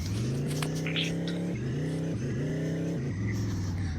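A car engine holds a steady tone, then shifts pitch a few times as it pulls away and drives off, loud and continuous, with no talk over it.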